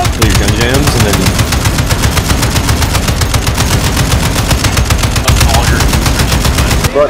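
Sustained automatic gunfire in the Modern Warfare II video game, a dense, rapid, continuous burst of machine gun shots lasting about seven seconds, loud and close, with faint voices underneath.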